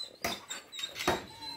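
A hunting dog puppy, carsick and unused to riding on a motorbike, gives several short, thin whimpers in close, separate bursts over quiet background.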